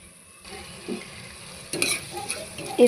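Prawn biryani masala with fresh coriander leaves bubbling and sizzling in a pan, a steady low simmer with occasional louder spitting bursts, no voices.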